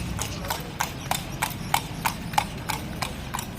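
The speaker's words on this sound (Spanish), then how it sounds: "se mantiene los carruajes tirados por caballo como uno de los medios de transporte de comunicación de Cárdenas" Horse-drawn carriage moving through the streets of Cárdenas, Cuba, hooves clip-clopping in a steady even rhythm, close and distinct over a low street rumble.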